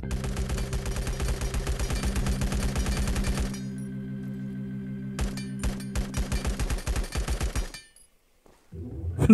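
Rapid video-game gunfire blasting through a floor, loud bursts of automatic shots in steady rhythm that pause, resume in shorter volleys, then cut to near silence before a final burst.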